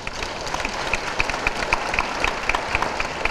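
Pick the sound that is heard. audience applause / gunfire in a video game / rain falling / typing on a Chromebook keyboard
audience applause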